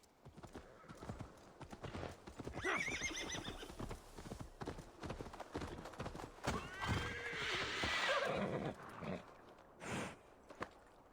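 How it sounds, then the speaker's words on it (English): A horse in Assassin's Creed Valhalla gives two drawn-out whinnies over a dense clatter of hooves, close and fairly quiet. "Ah, my trusty steed's still there."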